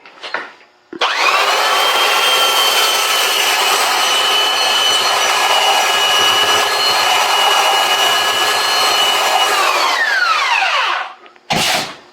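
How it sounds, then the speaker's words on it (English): A loud, continuous high whine from an angle grinder sharpening a rotary cutter blade runs for about ten seconds, then spins down, with a short burst again at the end. "you can see that with the angle grinder, holding it as steadily as possible at the right angle, going back and forth"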